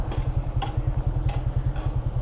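A motorcycle engine idles in neutral nearby with a steady, lumpy low putter, a few faint clanks rising over it.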